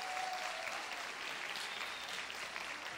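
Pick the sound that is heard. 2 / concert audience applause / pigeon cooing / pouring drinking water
concert audience applause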